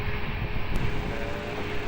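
Jet airliner departing Lisbon Airport on runway 20, a loud continuous broadband engine roar with steady rumble, heard without any voices over the short stretch.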